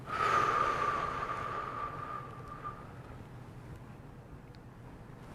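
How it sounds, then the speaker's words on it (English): A slow, audible breath out during a guided breathing exercise, a soft airy rush that starts strongly and tapers off over a few seconds, close and alone against faint background hiss. "Breathe out."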